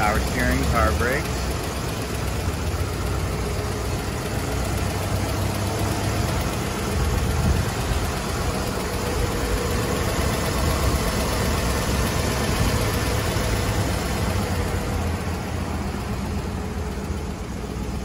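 A Rocket V8 car engine idles in a steady, loud, even rumble throughout, and a voice speaks over it.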